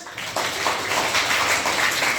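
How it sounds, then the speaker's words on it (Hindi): Students in a classroom clap together in one short burst of applause that lasts about two seconds. "सभी बच्चे एक बार ध्यान से सुनेंगे, एक बार ताली बजाएं"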